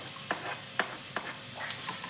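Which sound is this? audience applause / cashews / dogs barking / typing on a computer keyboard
cashews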